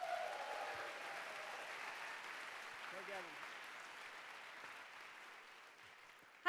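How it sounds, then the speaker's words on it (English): Steady applause from a live audience at an Ignite Seattle talk night, a continuous wash of clapping that holds for several seconds as the next presenter is welcomed. "Please give her a round of applause."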